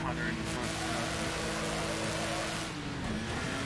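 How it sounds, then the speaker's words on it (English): A loud, steady race car engine drone in the Wreckfest video game, with harmonic whine running throughout, rising slightly in pitch, with a voice speaking over it. "My car is so loud."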